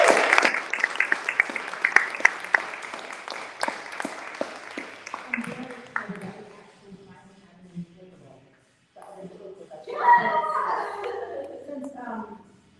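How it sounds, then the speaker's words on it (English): An audience applauds students at a noon pep rally for a state history competition, loud clapping and cheering that fades after several seconds, followed by voices and a brief swell of crowd noise. "just give a huge round of applause to our students up here, our students in the audience"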